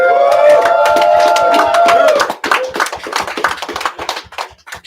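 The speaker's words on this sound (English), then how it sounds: "I want everybody to give a round of applause to Shantae" An audience applauds for Shantae's birthday at a Pan African elder and youth gathering. A sustained voice or tone comes first, then scattered, sharp hand claps follow and thin out as they fade away.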